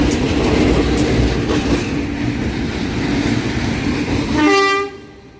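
A loud Indonesian KRL electric train hauled by a locomotive rumbles past close by with steady rail noise, then a strong horn blast sounds just before the noise falls away.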